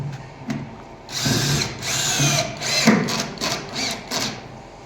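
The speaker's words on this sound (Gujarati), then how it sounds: "બસ આપણે મયંકભાઈ સ્ક્રૂ મારવાનું ચાલુ કરી દીધું" A power drill drives screws during home construction work, with repeated whining bursts of the motor spinning up and stopping, fairly close and loud, with faint background voices.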